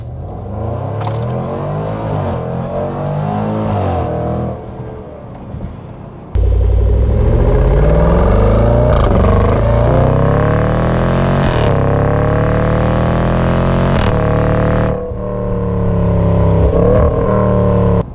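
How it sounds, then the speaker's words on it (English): Supercharged 5.0-liter V8 of a 2019 Jaguar F-Pace SVR with all-wheel drive, revving and accelerating hard; loud close engine roar that drops briefly, then surges again with rising pitch through gear changes, no talk. "we're going to give it a little juice"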